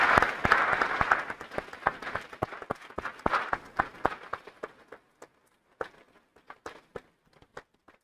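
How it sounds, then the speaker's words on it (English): Audience applause for award recipients at an opioid crisis funding announcement, dense clapping that thins out to a few scattered claps and trails off over about eight seconds. "let's give all those entities that were awarded today another round of applause"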